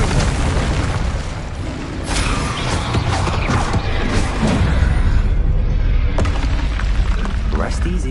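Confringo spell explosions in Hogwarts Legacy, booming blasts with crackling debris layered over continuous loud combat noise, a sharp burst standing out near the end.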